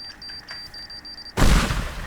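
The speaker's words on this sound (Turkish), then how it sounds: "Mesela normalde bir bomba şöyle patlıyor." A bomb in the game Teardown goes off as a sudden loud, broad blast after a quiet stretch with a faint beeping tone, and the rumble carries on to the end.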